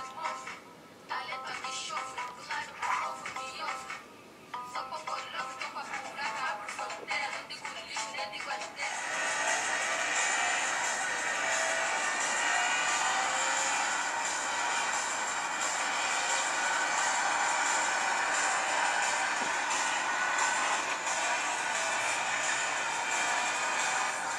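A steady, loud engine roar from Need for Speed Shift, played through an HTC Vivid phone speaker, fills most of the clip, with choppier mechanical bursts and revving at the start.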